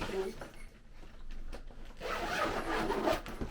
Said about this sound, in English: you can move this zipper and leave this little opening right here